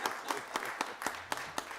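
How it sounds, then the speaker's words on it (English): A small group at a county board of commissioners meeting gives a round of applause, a short run of steady, evenly spaced claps at moderate volume, heard alone without talk. "We're going to give you a round of applause as you come up"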